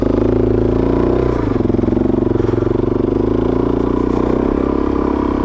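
Suzuki DRZ400 dual sport motorcycle engine drones steadily and loud up close while riding single track in the Idaho backcountry, with a brief dip around the second mark then a continuous rumbling pull and some clatter.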